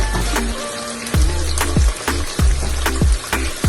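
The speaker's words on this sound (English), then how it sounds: "I'm gonna leave this make it go and simmer for a bit." Jamaican brown stew tofu simmers in a pot, giving off a loud, close run of popping bubbles at a loose, irregular rhythm over a constant low bubbling bed.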